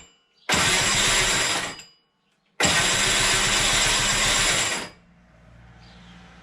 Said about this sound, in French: c'est pas bon de faire tourner un démarreur tout le temps, très longtemps